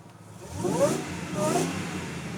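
A 1998 Ford Crown Victoria P71 Police Interceptor engine, Kenny Brown P2 Panther build, cranking and catching, then revving twice in quick succession at moderate loudness with steady idle rumble beneath.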